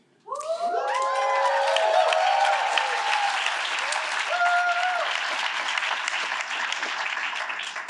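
A graduation ceremony audience bursts into sustained applause with cheering and a few high shouts rising above it, the clapping starting suddenly and holding strong before slowly thinning.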